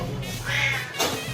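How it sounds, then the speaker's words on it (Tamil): A cat meows inside an ATM center, giving a long, drawn-out, fairly loud meow followed by a shorter cry, close to the microphone with no speech. "ஏடிஎம் மிஷினுக்கு வந்து ஒரு பூனை இருக்கு"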